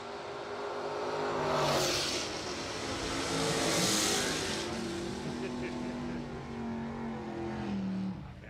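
A 1968 Super Sport Chevelle drag racing at a radial tire event, its engine swelling in loud revving surges that rise and fade, with a track announcer talking over the roar.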